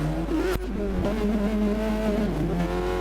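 Race car in a Spa 1991 Formula One racing game pulling away from a pit stop on hard tyres, engine note climbing steadily through revs with a brief sharp crackle early on, loud and continuous.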